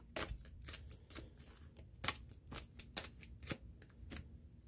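Oracle cards shuffled and drawn by hand, a quick run of crisp flicking riffles and slaps, close and clear with no talk.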